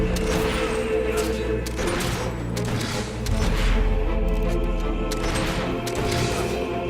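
Rapid gunfire crackles through a battle in Fable III, with dense overlapping shots and bangs forming a loud, continuous fusillade for several seconds; no voices are heard.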